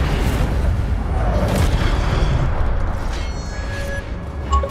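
Incendio fire spell cast in the Hogwarts Legacy video game, a loud, continuous roaring burst with boom-like low rumble that sustains for several seconds, then a faint rising magical tone near the end.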